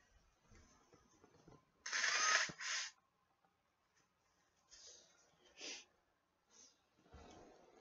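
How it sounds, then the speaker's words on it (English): A person blowing their nose: a loud, brief honking blast followed by a second shorter one, then a few fainter sniffs and snorts up close. "I'm going to blow my nose."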